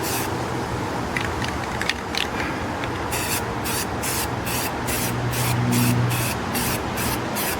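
An aerosol can sprays a light dust coat onto a Telecaster guitar body, first as a continuous hiss, then as a run of short, evenly spaced spray bursts over low background noise.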